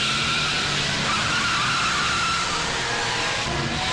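A car speeds hard in a police chase, engine roaring loud and steady with a sustained tire skid running throughout, no voices over it.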